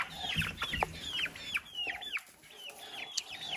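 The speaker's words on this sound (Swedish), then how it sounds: "här är väl en av våra socialaste hönor vi har här på gården." Farm hens and chickens clucking close by in a barnyard, a busy run of repeated rising clucks and short calls from several birds, steady and fairly loud with no talking.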